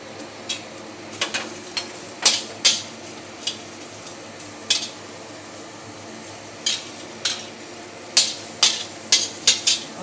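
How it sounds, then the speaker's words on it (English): Onions fry in a dry wok (kuali) with faint background sizzle, broken by a series of sharp clinks and scrapes of a utensil stirring against the metal, irregular and fairly quiet. "We fry the onions first."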